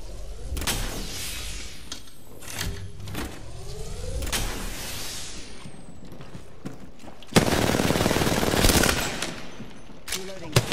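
Bursts of automatic gunfire from the video game Apex Legends, several rapid volleys with sharp single shots between them and a dense loud barrage near the end, over game effects.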